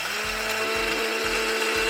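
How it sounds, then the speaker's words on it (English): A cordless blender grinds dried onion into powder with a constant high-pitched motor whine and a regular thumping pulse about twice per second, loud, close and continuous. "I'm gonna put it into the blender"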